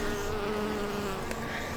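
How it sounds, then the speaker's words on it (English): Bees work borage flowers in a spring urban garden, giving a steady, close, droning buzz that hums continuously with no talking. "more and more bees on the borage"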